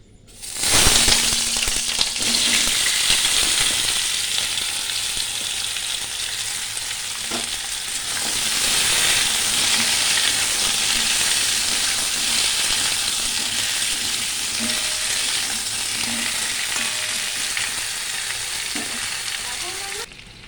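Cumin seeds and potato pieces crackle and sizzle in hot oil in a wok, a loud steady frying hiss running throughout with occasional soft knocks and pops, no voices.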